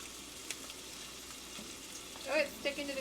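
Food fries in a pan where it is sticking to the surface, giving a faint, continuous sizzle and crackle. A person briefly speaks near the end.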